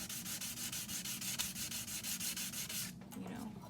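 Sandpaper rubbed by hand over a piece of jewelry in quick, even back-and-forth strokes, a steady rhythmic scratching that runs close and loud, then stops near the end.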